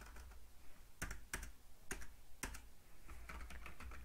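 Quiet keystrokes on a computer keyboard during data entry in manufacturing software, a few sharp distinct clicks spaced apart, then lighter rapid tapping toward the end.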